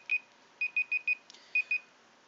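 A real-world alarm going off in a room where a Mount & Blade Warband game is being played: clean, bright electronic beeps repeated in short clusters, loud and close, with silence between groups and no talking.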